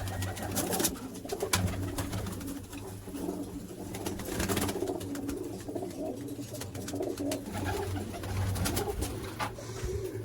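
Golden pigeons kept for sale in Sialkot coo steadily and close by, with low rolling calls repeating throughout amid some rustling and background noise.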